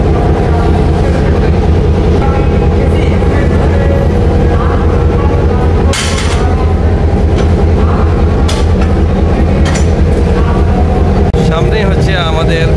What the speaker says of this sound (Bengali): এখনই ইঞ্জিন এখানে জোড়া দেওয়া হবে